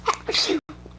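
A single close, sharp sneeze with a quick inhale before it, followed by a brief silence and quiet room noise.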